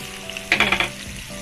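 Grated onion, carrot and bell pepper hit hot oil and burst into a loud, close sizzle that crackles in quick pulses for a moment, then settles back into a softer hiss.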